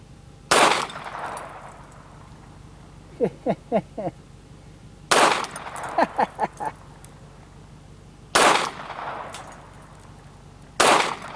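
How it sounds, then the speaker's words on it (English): Glock 42 pistol fired at targets outdoors: four sharp, loud single shots spaced a few seconds apart, with small metallic clinks of targets or brass in between. "So let's throw a few rounds at these things, see how we do."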